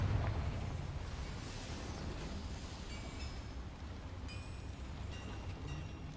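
Firing the Confringo fire spell in Hogwarts Legacy produces a low, muffled boom right at the start. A sustained rumbling roar follows, faint and steady, with a few thin tonal chimes later on.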